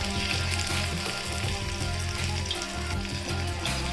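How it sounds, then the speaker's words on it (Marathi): Fand bhaji vadis, wild-greens fritters, frying in hot oil, a dense continuous sizzle and crackle close by with no pauses. "तेल घालून घेऊ वड्या तळून घ्यायच्या"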